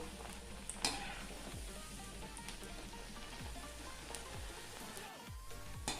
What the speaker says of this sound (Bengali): আজ কিছুক্ষণ সময় নিয়ে এভাবে মুচমুচে করে পেঁয়াজিগুলো ভেজে নেব।